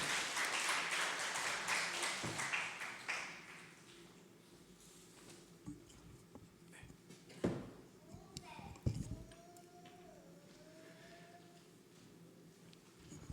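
A church congregation applauds in welcome at a Sunday morning worship service as a preacher comes forward, a loud burst of clapping in the first few seconds that fades into quieter room noise with scattered small sounds.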